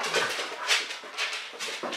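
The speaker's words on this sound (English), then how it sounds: "Dogs are fighting." Several dogs fight with repeated high whimpering yelps and growls in short bursts, about four of them, fairly faint and somewhat distant, with no talking.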